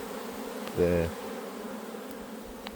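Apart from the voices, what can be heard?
honey bees buzzing in a hive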